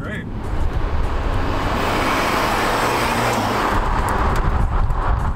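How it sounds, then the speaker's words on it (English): A rebuilt BMW sports car driven hard through corners, with its turbo and engine producing a loud, continuous rushing roar and heavy road and wind noise that stays steady throughout. "And you can hear that turbo now."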